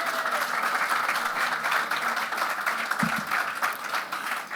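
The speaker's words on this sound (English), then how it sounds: "Let's give them a round of applause." Audience at the official launch event of Green Rising in Barbados giving a loud, sustained round of applause with dense, continuous clapping throughout.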